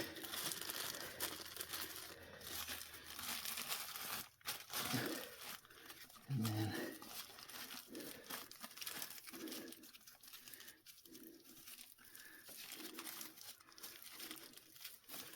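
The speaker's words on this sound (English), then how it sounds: "Put a little plastic bag around it." Plastic crinkling and rustling up close, with scattered handling noises and brief bumps, a few spoken words partway through.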